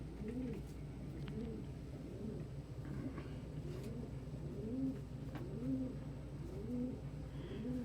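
Pigeons coo in a repeated, regular rhythm, soft and fairly close over a low steady background hum.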